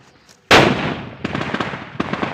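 A Diwali firecracker bursts under a sheet of paper with one sudden, loud, close bang that decays quickly, followed by scattered crackling and rustling after a short pause.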